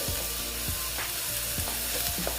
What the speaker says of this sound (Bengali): দেখো ভালো মতন এটাকে ভেজে নিচ্ছি